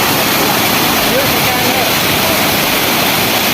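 A waterfall at a tourist spot roars as a steady, loud broadband rush that fills the whole stretch without pause.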